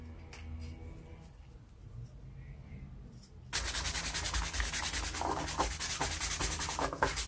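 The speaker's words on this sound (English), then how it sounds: "I sand it a little bit to make the paint adhere better" Sandpaper rubs against a plastic fire alarm bell in fast, scratchy back-and-forth strokes, starting abruptly after a quiet moment and continuing close and loud.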